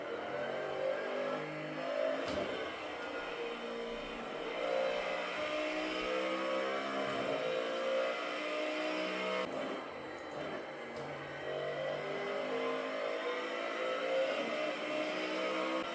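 A race car engine in a sim racing video game drones and revs continuously, its pitch rising and falling through gear changes, with brief clicks and shifts as laps are driven, fairly faint and with no talk.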